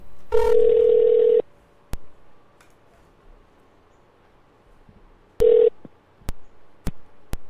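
A telephone call goes out with a long steady tone at the start, single clicks after it, then a second short tone burst and more sharp clicks near the end, heard clearly and close with no talking.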